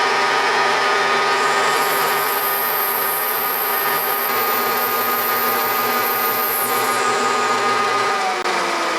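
Milling pass on a homemade milling table fitted to a Unimat lathe, a steady loud whine of the small motor and cutter running continuously, with a high-pitched squeal rising in the middle section.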